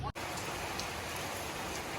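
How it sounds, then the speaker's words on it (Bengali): Heavy rain falls steadily in a dense, even hiss after a short break at the start, close and continuous with no voices. "এখন একটু ভালোই জোরে বৃষ্টি এসছে"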